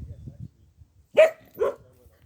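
A dog lets out two sharp barks, close by and loud, after a moment of low murmuring background noise.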